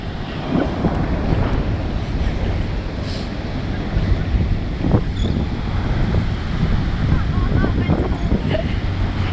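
Atlantic Ocean surf at Daytona Beach, with steady wind buffeting the microphone over a continuous rush of waves, loud and close throughout.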